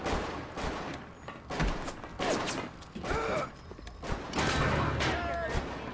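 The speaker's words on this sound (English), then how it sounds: "Whoa, who's shooting me now?" Gunfire aimed at the player in the video game Bioshock, dense volleys of sharp shots and clattering mechanical noise, loud and close, mixed with game sounds and a voice talking over it.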